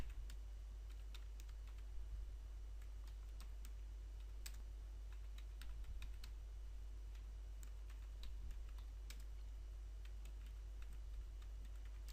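Faint, continuous computer-keyboard typing as code is entered, with quick irregular key clicks over a steady low hum and background hiss.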